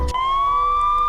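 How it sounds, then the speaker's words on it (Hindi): A police siren wails, one steady rising tone, loud and close, filling the whole moment. "बाहर मुझे सायरन की आवाज़ सुनाई दे रही थी।"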